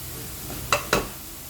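Spices are added to onions frying in a pan, giving a steady soft sizzle with two quick close scraping knocks from a spoon partway through.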